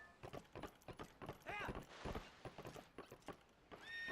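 Horse hooves clopping steadily over a small bridge in Twilight Princess HD, a rhythmic clatter mixed with game sounds while a voice speaks over it.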